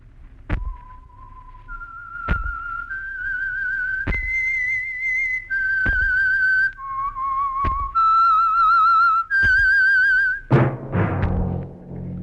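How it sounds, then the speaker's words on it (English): A person whistles the signal tune of The Whistler radio program on Signal Oil. The phrases are clear and sustained, with sharp thumps between the notes, and the tune ends in a brief noisy burst. "That whistle is your signal for the Signal Oil Program, The Whistler."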